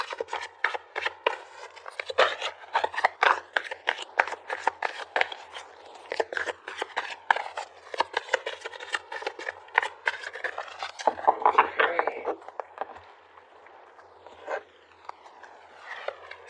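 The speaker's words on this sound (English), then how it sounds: "let's pull some cards to get outcome to all this energy" Tarot cards shuffled and pulled from a deck, heard as a long run of rapid, close riffling and flicking clicks, with a busier burst of card handling near the end and no talk.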